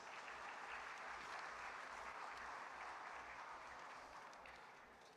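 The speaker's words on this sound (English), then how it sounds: "A round of applause, please" At a university engineering coronation ceremony, an audience applauds the Vice President for Academic Affairs with continuous, fairly distant clapping that fades slightly toward the end.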